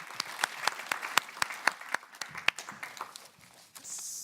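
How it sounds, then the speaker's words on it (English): An audience applauds after a conference session, a burst of close, crisp hand claps that thins out and fades over a few seconds. "So please give big applause to this first session."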